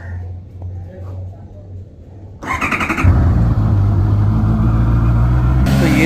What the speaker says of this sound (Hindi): तो लास्ट बार इसका एग्जॉस्ट नोट ऐसे सुन लेते।